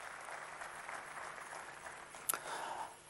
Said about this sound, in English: Would you please give a big round of applause, ladies and gentlemen, to the late Emperor Haile Selassie I of Ethiopia.